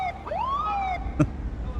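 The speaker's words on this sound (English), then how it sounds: "Pressing E displays some type of blood-curdling, cat-murdering siren of an effect that I guess is supposed to be some type of emergency horn" A shrill emergency horn siren effect from the Police Simulator video game, a rising and falling electronic wail that sweeps upward and holds briefly, followed by a short sharp click, heard alone and fairly close.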